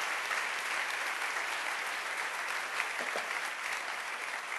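A church congregation applauding together, sustained dense clapping that fills the room evenly from start to finish and fades slightly at the end.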